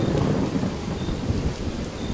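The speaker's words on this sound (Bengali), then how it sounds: "তখনই আরো একটা বাজ পড়ল সামনাসামনি কোথাও।" A rolling rumble of thunder under heavy, steady rain, dense and continuous throughout with no voices.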